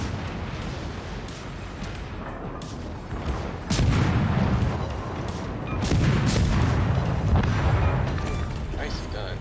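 Naval video game battle with a destroyer firing torpedoes from behind an island, heard as a steady roar of booms and artillery-like blasts swelling louder in bursts, with players talking over it.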